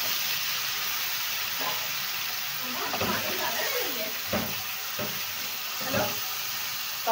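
Chopped vegetables drop into hot oil with browned onions, giving a steady close sizzle broken by a few sharp clatters and stirring scrapes in a home kitchen.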